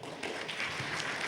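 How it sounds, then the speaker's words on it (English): Brief, faint applause from a conference audience welcoming a speaker before a talk on fuzzing, a soft steady patter of distant clapping. "So please give him a big round of applause."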